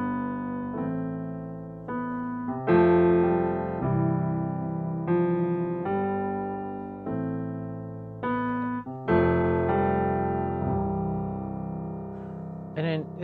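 Solo virtual piano instrument with its ambient microphone turned off, playing a slow sequence of chords and single notes, dry and close with little room reverberation, steady and fairly loud throughout.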